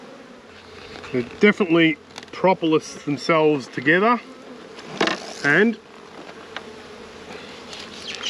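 Honeybees packed in a hive give off a constant low buzzing drone beneath a person talking close by.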